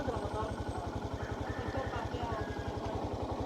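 A motorcycle on a rural barangay road, its engine putting out a steady, rapid low thrum, close and continuous with no voices over it.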